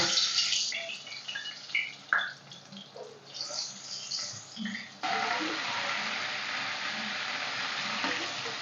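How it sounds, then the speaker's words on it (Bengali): Stuffed pointed gourds (potol) filled with chicken slide into hot oil, setting off a loud, continuous sizzle that takes over partway through, after scattered kitchen clatter and splashes. "তো আমার তেল ভালোভাবে গরম হয়ে গেছে, পটলগুলো আস্তে আস্তে তেলের মধ্যে ভেজে নেব"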